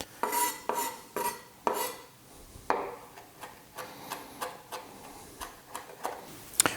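A knife chops rosemary finely on a board for a rustic Sardinian sausage ragu, with a run of crisp, fairly quick taps that slow into lighter, irregular strikes, fairly quiet and close with no talking.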